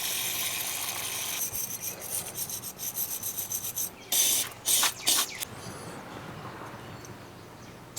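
Old brake pad hardware kit from a 2008 Hyundai Elantra being cleaned, heard as close scraping and rasping in uneven strokes, with several louder bursts of brushing near the middle.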